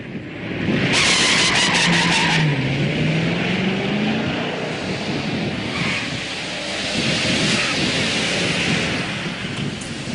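A classic muscle car launches at about 3,000 RPM and breaks its tires loose, giving a loud, sustained roar of engine and tire spin with a sweeping engine tone, heard up close for the full stretch.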